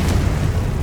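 Confringo blasting spell going off in the Hogwarts Legacy video game, a dense low rumbling boom that fills the whole short moment at steady loudness.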